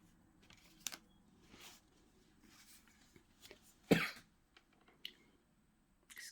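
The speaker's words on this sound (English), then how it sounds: "excuse me, for coughing" In a quiet room during a tarot deck comparison, someone gives a sharp cough, surrounded by a few softer throat-clearing sounds and small handling noises scattered across the stretch.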